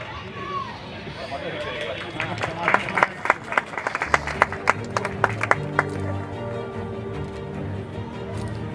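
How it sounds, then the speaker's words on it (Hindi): A crowd claps at a Republic Day flag-hoisting and prize ceremony in a stadium, sharp claps swelling to a dense burst in the middle over ongoing crowd murmur and a voice on a loudspeaker, then thinning out. "जोरदार तालियां"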